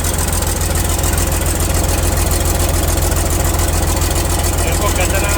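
A Caterpillar CAT 320 excavator diesel engine runs steadily at idle after a radiator overhaul, a loud continuous throb with a strong low pulse under broad mechanical noise, while people talk nearby.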